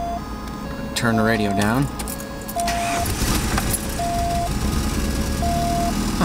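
A 1990 Volkswagen Jetta GLI with a hard-starting problem cranks and catches, then idles with a steady, fairly loud rumble while a person speaks over it and a faint tonal chime persists in the background.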